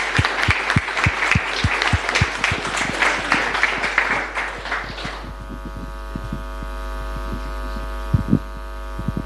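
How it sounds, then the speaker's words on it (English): A small audience applauds mentors after a demo presentation, a brief burst of clapping for about five seconds that stops abruptly, leaving a steady electrical mains hum and a few scattered knocks and thumps. "let's make a big applause for other amazing mentors, Karel and Märten"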